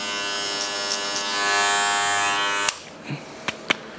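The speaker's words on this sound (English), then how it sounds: "Put the skin in with the foil shaver" An electric foil shaver buzzes loudly and steadily against hair on a head during a skin fade haircut, then cuts off abruptly, followed by a few faint clicks and taps.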